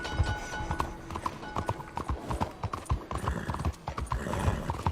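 Horse hooves clip-clopping in Red Dead Redemption 2, a brisk, regular rhythm of close hoofbeats with a short whinny near the start, no talking.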